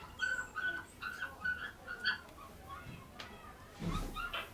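A person imitates a curlew's call with a string of short, thin, whistled rising notes in quick succession, followed by a breathy rush of sound at the end, fairly close and alone.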